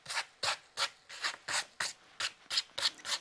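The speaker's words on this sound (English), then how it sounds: "Now it's totally dry, I can now rub off the salt." Dried salt rubbed off a watercolour painting by hand, giving about ten regular, close scratchy strokes with no talking.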